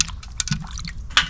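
Mackerel is rinsed in water by hand, with close splashing, dripping and wet squishing sounds in a brief burst.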